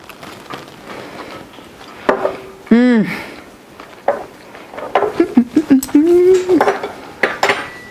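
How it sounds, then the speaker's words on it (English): A knife scrapes and crunches through crispy prosciutto on veal saltimbocca on a plate, with sharp clinks of cutlery against dishes close up. "you can hear it, the crispiness of that prosciutto."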